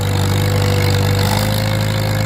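A Farmall M tractor engine running steadily under load while plowing in low gear, a loud, continuous droning hum with a constant low pitch and no pauses.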